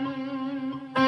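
Sustained electric guitar tone through a Soldano amp on its blue gain channel with two delays running, a held note ringing with echo trails before a fresh louder attack near the end.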